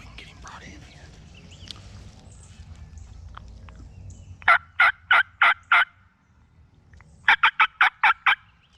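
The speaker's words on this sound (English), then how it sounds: "I got a bird really hot gobbling over here" Wild turkey gobbling hard in the field during a hunt, two loud rapid bursts of gobbles, each a quick rattling string of five or six pulses, over faint background murmur.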